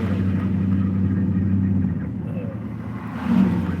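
A car drives along a road in heavy rain near Jonesville, Virginia, giving a steady low rumble and continuous tire hiss that swells slightly near the end, with a voice speaking over it.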